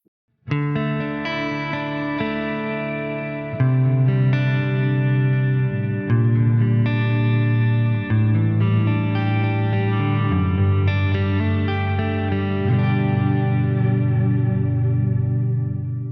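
A clean electric guitar on the neck pickup plays sustained, ringing chords with a shimmering chorus-like effect, several changes over a steady, full tone with no talking.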